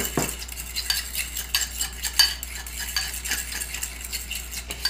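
Tartar sauce being mixed with Old Bay Hot seasoning in a bowl, with a continuous close scraping and clinking of a utensil stirring briskly, no voices.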